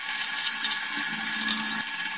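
Small mourola fish frying in oil in a pan, a fairly quiet, continuous crackling sizzle with light bubbling texture and a faint scrape near the end.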